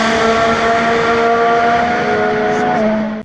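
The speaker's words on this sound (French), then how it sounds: "démarrez vos moteurs" Formula 1 race car engines drone at high, steady pitch as they start and rev, a loud sustained whine that holds nearly the whole time before cutting off abruptly at the end.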